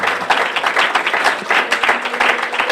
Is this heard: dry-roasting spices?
no